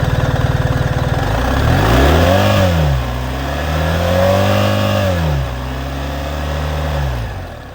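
A BMW R1300 GS boxer engine drones with a low, guttural tone, revving up and easing off in slow swells, close and steady with no talk.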